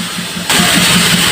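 An Isuzu 4HL1 diesel engine with a hard-starting fault cranks, then fires and runs with a loud, steady, slightly rough rhythm, close up and alone.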